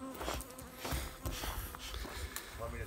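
Honey bees buzz around a beekeeper at the hives, a close, wavering drone with swells as insects pass, alongside breathing and brief talk.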